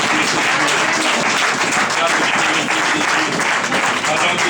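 A church congregation applauds loudly and continuously, dense clapping filling the space with voices and cheers mixed in throughout.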